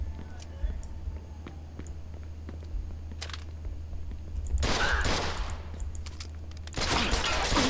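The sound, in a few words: police gunfire in video game Mafia 2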